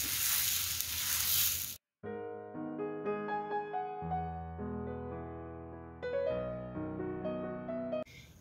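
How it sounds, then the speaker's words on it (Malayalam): Pancake batter hits a hot frying pan with a loud, steady hiss of sizzling that lasts under two seconds before cutting off. Melodic music follows. "1 തവി മാവ് ഒരു ഫ്രൈ പാനിലേക്ക് ഒഴിച്ചു കൊടുക്കാം."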